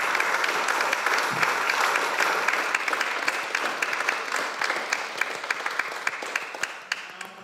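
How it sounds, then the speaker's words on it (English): An audience at the 2018 St Saviour No.3 deputy election hustings applauds the candidates. The clapping is dense and steady from a modest crowd, with a few sharper individual claps standing out near the end. "I think we owe them a good round of applause for that"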